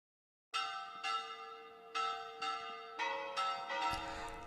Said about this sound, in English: As bells in the city begin to ring out, they sound like alarm bells ringing.